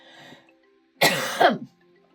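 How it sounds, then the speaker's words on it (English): A single loud cough bursts out alone after a faint murmur of talk, lasting about half a second with a rough, throaty edge. "I have to cough on that"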